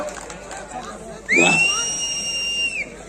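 A single loud, piercing whistle rises sharply and holds for over a second above a noisy crowd murmur at a wrestling bout in Harsul.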